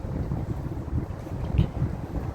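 Strong winter wind blows across flags outside a Target store in Lombard, Chicago, with snow around. It makes a loud, gusty rumble that buffets the microphone in uneven surges.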